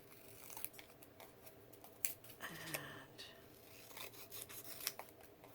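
Quiet, close scissor snips cut through pieces of a paper craft kit, with scattered crisp clips and rustling paper handling between the cuts.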